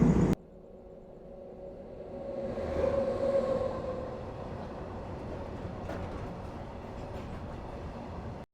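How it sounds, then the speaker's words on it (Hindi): Inside a Rajdhani Express, a train passing from the opposite direction rises in a rumbling swell, then settles into a steady rolling drone of wheels on track, heard from within the carriage with no talking. "और सामने से कोई ट्रेन आ रही है,"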